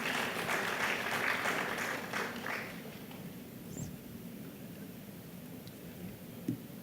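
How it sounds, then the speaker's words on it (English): Audience applause at an air cargo industry conference in India, a steady wash of clapping from a seated crowd that holds fairly even and then thins out, with no talking over it. "Let's give him a round of applause, please"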